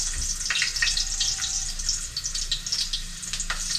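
Okra frying in a pan gives off a steady, close hiss of sizzling oil, with small crackles and pops scattered through it and no talking.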